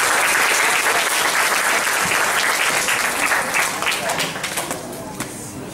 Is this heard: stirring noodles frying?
no